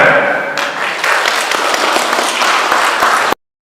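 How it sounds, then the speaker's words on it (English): Dense applause from a crowd, loud and sustained for a few seconds, then cutting off abruptly. "A round of applause for them."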